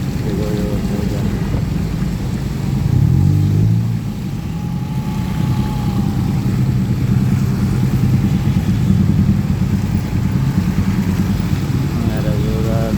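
Street traffic on Jalan Perintis in Makassar after rain, with a steady roar of cars and motorcycles passing close by. One engine swells loudly for a moment, with tire hiss running underneath throughout.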